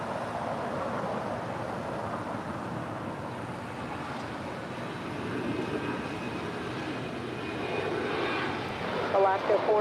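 A China Southern Cargo Boeing 777 arrives at LAX, its engines a broad, steady roar close at hand throughout, with radio-style talk faintly present over the jet noise.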